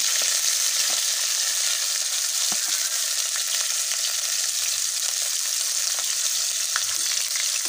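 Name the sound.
leftover dish being reheated in a pan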